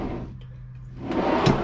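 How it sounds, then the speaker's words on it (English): A pull-out drawer in a Lance 1172 slide-in truck camper slides open or shut, a soft rolling glide ending in a brief clack, close and fairly quiet, with no talking. "Oh wait, pull out drawers. You got two of these."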